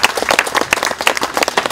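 An audience at an outdoor community festival bursts into dense, continuous applause, with many hands clapping close by throughout.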